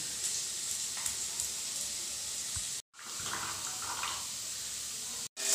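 Potatoes fry lightly in hot oil, giving a continuous bright sizzle and crackle that stays loud and close. Two sharp breaks cut the sound briefly.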